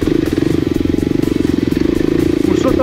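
An enduro motorcycle racing in a regional Lombardy event near Chieve, its engine droning loud and steady with a fast pulsing rhythm close by.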